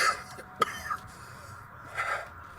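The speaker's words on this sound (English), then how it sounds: "He is coughing a little less" A man coughing in a Breaking Bad scene, a few rough, separated coughs and throat-clearing sounds, moderately loud, with a brief sharp burst early on.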